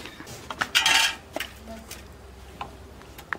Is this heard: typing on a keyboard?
no